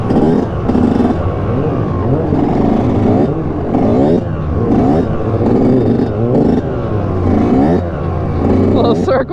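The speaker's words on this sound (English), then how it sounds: "finessing on that big ass sport bike" A big sport bike's engine revs hard through a wheelie, rising and falling in repeated throttle surges, loud and close, with voices talking over it.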